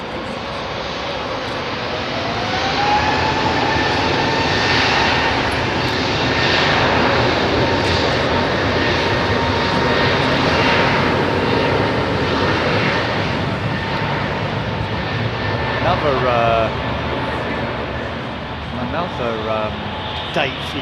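Trans Aero Portugal aircraft climbing out at London Heathrow, a loud sustained engine roar that swells and holds with a rising whine, speech heard over it.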